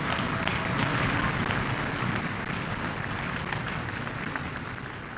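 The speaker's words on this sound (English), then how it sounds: "So can we just have a huge round of applause for the phenomenal teaching that's going on every day in Farmington?" Audience applause at a school string orchestra concert, a steady wash of clapping from a large crowd at moderate distance, sustained without a break for the whole stretch.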